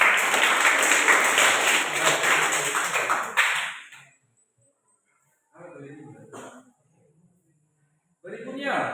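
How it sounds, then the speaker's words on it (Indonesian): Schoolchildren in a classroom applaud their classmates with a dense, steady wash of clapping for about four seconds. It cuts off sharply, and a teacher then talks in short phrases. "Tepuk tangan pada temannya."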